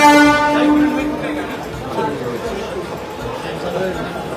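A train horn sounds briefly up front, then a steady rail rumble continues while people chatter nearby.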